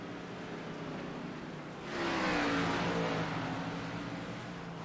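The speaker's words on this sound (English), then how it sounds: "It's just interesting to watch these cars going around the track." A racing car in a sim racing league event at Sonoma Raceway roars past, its engine swelling loudly midway and then holding a steady drone as it fades slightly.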